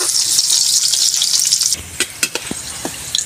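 Pork liempo frying a second time in a pan, giving a strong, continuous hissing sizzle that eases partway through, with scattered crackles and pops.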